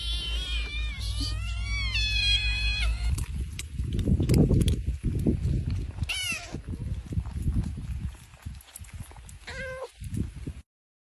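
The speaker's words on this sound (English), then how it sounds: "A multitude of cats." Several cats meow and caterwaul, loud and near, with drawn-out rising wails over a busy rumbling background that grows rougher midway before a final plaintive meow.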